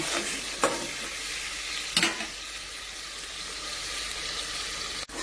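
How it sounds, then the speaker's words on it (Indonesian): Celimpungan spice paste from Palembang is stirred in a hot pan: a steady close sizzle with a few short scraping strokes of the spoon. "Lalu kita aduk-aduk ya teman-teman"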